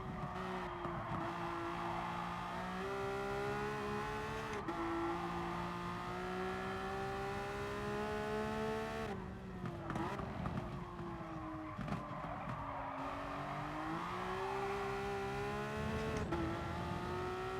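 Race car in GT Sport, with tyres squealing and sliding under a steady engine drone; long sustained tyre squeal that rises and falls across several corners, loud and close, with no talking.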